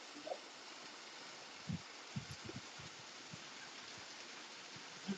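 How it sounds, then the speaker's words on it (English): Heavy rain pours down outdoors as a steady broadband hiss, with a few soft knocks and thumps scattered through it. "I got some longer rain, heavy rain, coming down through here."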